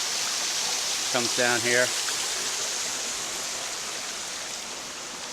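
A small six-to-seven-foot waterfall on the Susquehanna River rushes in a steady, dense roar close by, with someone briefly speaking over it.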